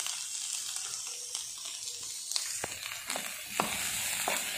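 Onion and carrot for a vegetable samosa filling fry in a little oil, giving a soft, steady sizzle broken by a few light clicks of stirring, close but fairly quiet.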